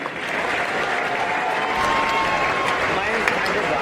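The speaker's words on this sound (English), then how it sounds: "Ladies and gentlemen, a round of applause for the co-captains of the Dandenong Jaco Rangers" Crowd at a women's basketball grand final applauding the co-captains of the Dandenong Rangers, loud sustained clapping filling the arena with a busy, even texture.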